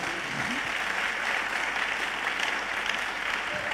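A church congregation claps hands at a conference service, a steady, moderately loud patter of many hands running evenly through the whole moment.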